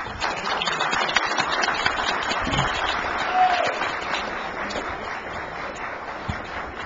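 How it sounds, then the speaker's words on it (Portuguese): Audience at a law school seminar applauds together, a steady wash of clapping that lasts several seconds, with some voices mixed in. "gostaria de começar esse evento com a salva de palmas de vocês para vocês mesmos"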